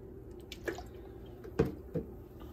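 Water drips from a wrung-out kitchen sponge, three faint separate drops falling over a quiet background with no talking.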